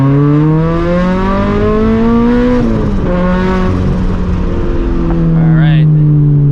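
A turbocharged Scion FRS making over 350 horsepower pulls hard in second gear, its loud engine note climbing steadily in pitch up close, easing briefly, then surging again.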